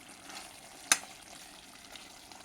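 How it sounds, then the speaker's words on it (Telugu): Mutton curry with capsicum pieces frying gently in a pan, a soft, steady sizzle broken by one sharp metallic clink early on. "ఇదిగోండి వేగి దగ్గర పడుతుంది చూడండి"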